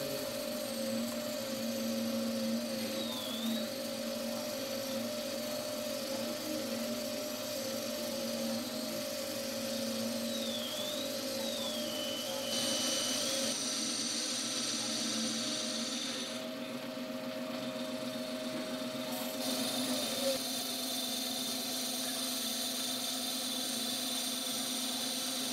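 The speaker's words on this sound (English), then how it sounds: "You can hear the strain on the motor." Lathe motor straining while taking a heavy cut on a grinding wheel adaptor, a steady loud hum and whine running throughout with shifting high tones as the cut progresses, no talking.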